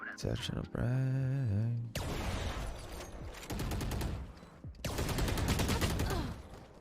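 Rapid gunfire bursts in the tactical shooter Valorant, loud repeated shots in several clusters mixed with game effects and a talking voice.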